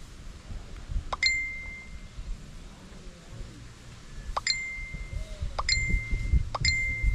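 A cellphone sounds several loud, bright notification chimes, four sharp dings spaced a few seconds apart over low background noise and movement.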